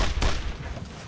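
Gunfire in the World War II shooter Brothers in Arms: Road to Hill 30, a short dense burst of shots and booms with heavy low rumble, loud and close, with no talking over it.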